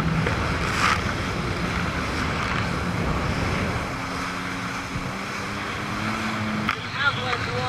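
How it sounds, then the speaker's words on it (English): Rough water churns and crashes around a boat heading through big ocean waves toward a beach, with wind noise and a motor hum underneath, loud and continuous throughout. "We're gonna head in through these waves into the beach now, just to get a sense of how big they are."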